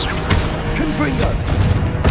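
A Confringo fire-blast spell is cast in Hogwarts Legacy, with thudding blasts and crackling impacts over a dense, steady game rumble. A voice talks through part of it.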